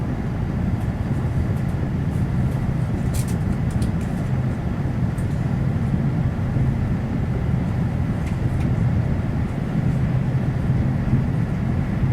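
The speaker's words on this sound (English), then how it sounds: "Class 185 passing." A Class 185 train passes between York and Garforth with a steady, loud rumble and roar that holds evenly throughout.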